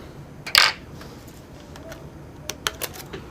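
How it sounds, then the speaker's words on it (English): A keyboard is pried out of a Sony Vaio laptop during a ribbon repair, giving one loud plastic snap followed later by a few sharp, close clicks and rattles. "Keyboard's coming out now."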